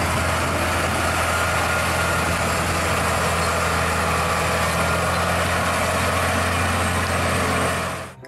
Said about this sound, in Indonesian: Di sini ada mobil truk gandeng.